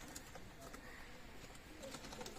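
Faint coos of Kaldom pigeons drift through a quiet, noisy background, soft and low, with no clear voices.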